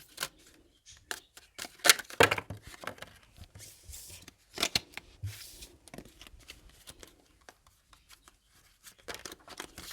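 Close, crisp riffling and slapping of tarot cards being shuffled in irregular bursts, with short pauses and quieter handling between.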